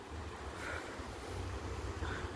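Sea waves washing in at Aare-Ware beach, a continuous low surf roar mixed with wind buffeting the microphone, steady and fairly faint, with no talk.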